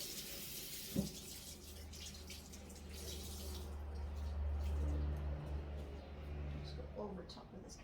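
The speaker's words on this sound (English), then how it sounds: "Rinse the cloth and" A running sink tap splashes softly as a cloth is rinsed under it, a faint steady water flow with a brief clunk near the start.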